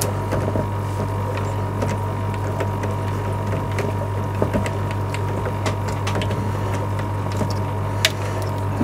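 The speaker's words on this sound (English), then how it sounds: "So you basically just slide on the wrench. Lefty loosey." A wrench loosens a water filter housing on a fish room's automatic water change system, giving small scattered clicks and creaks over a steady low hum from nearby equipment.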